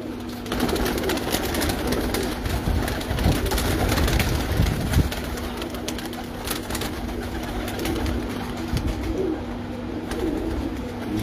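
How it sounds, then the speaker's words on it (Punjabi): Several teddy pigeons with pink-ringed necks coo continuously inside a loft, a dense, close murmur of overlapping low coos with fluttering and shuffling, no voices. "ਗੁਲਾਬੀ ਡੋਰਿਆਂ ਵਾਲੇ ਟੈਡੀ ਕਬੂਤਰ ਨੇ ਜੀ ਮਾਸ਼ਾਅੱਲਾ"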